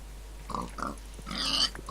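A pig in a block-building video game gives several short grunts, then a longer, brighter squealing oink, all close and clear with no talking over it.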